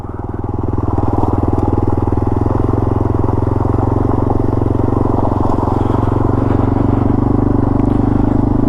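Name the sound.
Yamaha TW200 motorcycle riding on deep gravel trail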